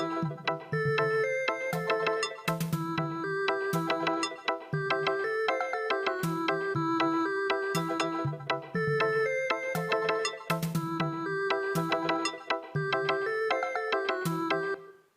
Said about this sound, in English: the sound of this general MIDI kind of cheesy MIDI ringtone